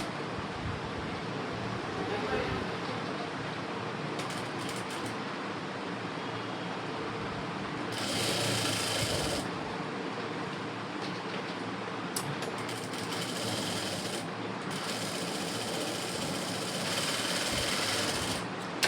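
A sewing machine joins the shoulder seam of a blouse at a quarter-inch allowance, running in close, steady, buzzing bursts that stop and start several times, with no voices.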